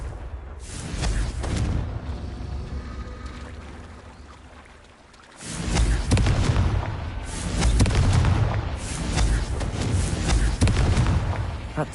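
Confringo fire spell blasts from the Hogwarts Legacy video game, a series of loud booming explosions with crackling debris, a rumbling burst early on and heavier repeated blasts in the second half.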